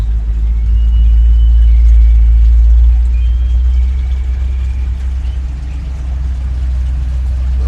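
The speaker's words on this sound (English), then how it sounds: "Just going to build the revs up a little bit." A boat engine in a harbour raises its revs to a steady, loud low rumble with a slight swell, the drone continuing evenly throughout and no talk over it.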